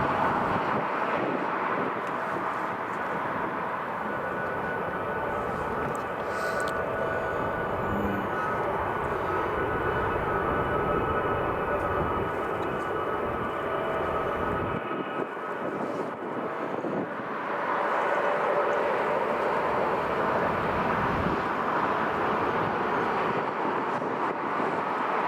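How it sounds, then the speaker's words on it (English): A Dash 8 Q400 turboprop taxis past the tower at Newcastle International Airport, a steady engine drone with propeller whine that swells and fades as it passes, with wind buffeting the microphone and no talking. "Get the Q8 taxiing past the tower."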